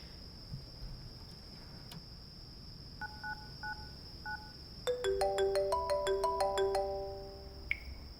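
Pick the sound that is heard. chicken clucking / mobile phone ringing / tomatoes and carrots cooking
mobile phone ringing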